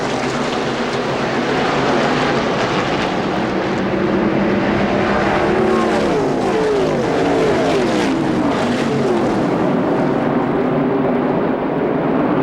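Field of ARCA stock cars roaring past at Daytona in the 1996 ARCA 200 just after the green flag, a loud sustained engine roar with pitches sliding as cars pass, continuous throughout with no talk.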